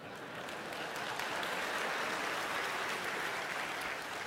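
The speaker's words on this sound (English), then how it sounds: "That line always gets applause." Steady applause from a lecture audience fills the whole stretch, dense and even with no speech over it.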